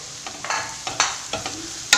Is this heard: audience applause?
no